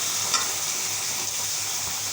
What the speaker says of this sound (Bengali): আর কিছু গোটা রসুন দিয়েছি। এটা ভাজা ভাজা হবে।